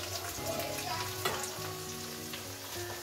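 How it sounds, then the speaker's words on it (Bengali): Potato slices frying in oil in a home kitchen, a dense close sizzle with occasional utensil clinks and a faint background hum, no voices. "আর এখানে আলু ভাজা চলছে"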